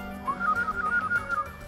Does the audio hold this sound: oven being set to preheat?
no